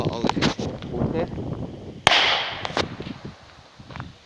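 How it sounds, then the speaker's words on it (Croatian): A firecracker goes off outdoors with one sharp, loud bang about halfway through, followed by a short decaying rumble. Scattered voices and small handling noises are heard before it. "To je po meni najjača petarda."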